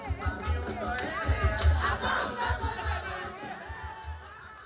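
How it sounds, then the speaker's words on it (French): A dense crowd of marchers at a political march in the streets of Porto Novo, with loud overlapping voices and shouts and rhythmic low thumps, steady throughout and close by. "Les marcheurs se font entendre à travers artères et grandes places publiques de la ville."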